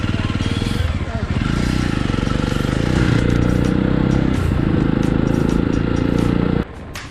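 A motorbike rides a forest road toward Haflong, its engine droning loud and steady with clattering road noise throughout, then cutting off abruptly near the end.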